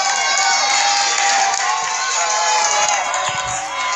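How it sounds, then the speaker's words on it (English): A crowd cheering at an MMA fight, loud sustained shouting and cheers from many people filling the space continuously, with some scattered claps. "And it looks like Ian brought a crowd with him today."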